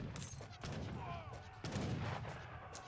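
Cannon and musket fire in an Age of Empires III battle with Dutch cannon behind skirmishers, heard as muffled booms and crackling volleys under a caster's commentary, fairly quiet overall.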